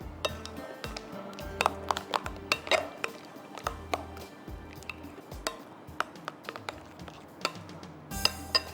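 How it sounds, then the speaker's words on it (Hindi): A banana cream dessert mixture is stirred in a pot, with soft squishy scraping and irregular clinks of a utensil against the metal, close and fairly quiet. "ये देखिए अब इसको मिक्स करते हैं।"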